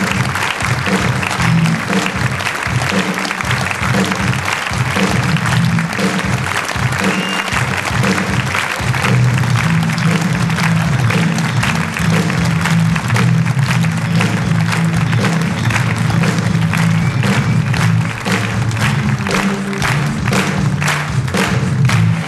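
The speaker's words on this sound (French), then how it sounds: "applaudissements, vraiment" Sustained audience applause at a comedy show in a Paris theatre, loud and steady for over twenty seconds, with dull thumps and a low hum running beneath the clapping.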